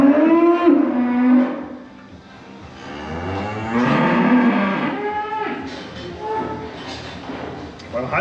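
A dairy cow in a barn lets out several long, loud moos, one after another, with stable and farm noise around them.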